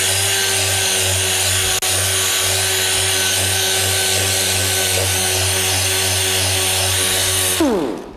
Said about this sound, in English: So while I'm sanding in this area